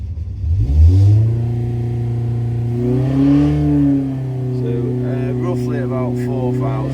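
An offset engine fires up on a dyno and is revved, pitch climbing then holding and swelling in a couple of rises, loud and close with a steady drone, a voice briefly heard over it.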